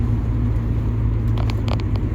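A car engine drones as the vehicle drives along, a steady low rumble with faint crackles and a few brief clicks near the end, and no voices.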